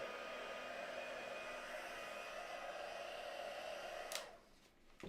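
A handheld dryer blows a steady, loud rush of air over wet ink on a craft project, then switches off near the end, leaving quiet.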